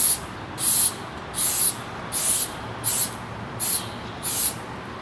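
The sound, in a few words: spraying adhesive onto foam board in short bursts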